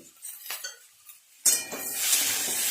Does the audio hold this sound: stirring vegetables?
yes